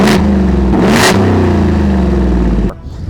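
A supercharged 2025 Ford F-150 with a 5-liter engine revs loudly up close, two sharp throttle blips rising over a steady rumbling idle before the engine cuts off near the end.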